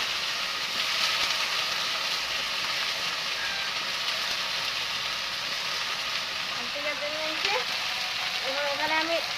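Pieces of alti vegetable fry in hot oil for a Bengali chicken dish, giving a steady, dense sizzle that holds evenly throughout, with a few faint chirps near the end.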